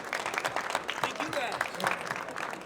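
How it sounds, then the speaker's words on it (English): Brief, modest round of applause from a trade-show audience for deck business panelists, scattered claps heard close with some voices mixed in over under three seconds. "why don't we give the panelists a round of applause?"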